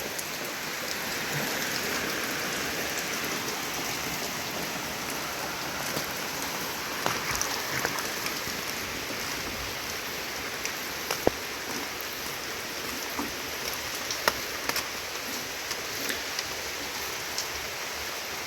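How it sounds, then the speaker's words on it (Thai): Heavy rain pours steadily, a dense hiss with scattered sharper drops and taps, continuous throughout with no voices. "ฝนลินมาอีกเลย"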